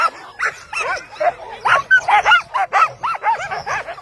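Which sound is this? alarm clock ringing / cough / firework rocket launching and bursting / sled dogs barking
sled dogs barking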